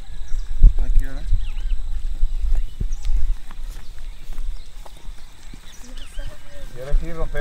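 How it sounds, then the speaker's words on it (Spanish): A donkey walks with hooves clip-clopping in a cacao grove, a few knocks near the start under talking voices, while birds and other voices carry on around it. "Un burro. Un burro."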